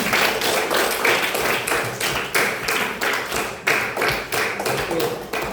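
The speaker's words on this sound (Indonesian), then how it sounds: "Tepuk tangan dulu untuk kita semua" A classroom of students claps their hands at the end of a geography lesson on the six continents, producing a loud, fairly regular series of beats with a thudding, tapping quality that continues throughout.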